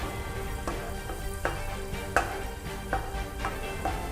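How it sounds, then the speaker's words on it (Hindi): Garlic and ginger fry lightly in a pan, giving a steady soft sizzle broken by a few sharper crackles and stirring scrapes, close and moderately quiet with no talk. "लहसुन अदरक को हमने हल्का सा फ्राई करना है"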